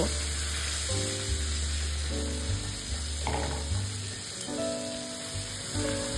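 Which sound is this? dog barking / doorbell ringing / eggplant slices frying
eggplant slices frying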